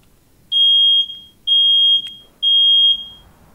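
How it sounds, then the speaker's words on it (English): A household smoke alarm chirps three times in an even rhythm, each beep loud, piercing and about half a second long, with short quiet gaps between and no voices. "smoke alarm's going off. It's been doing it all morning."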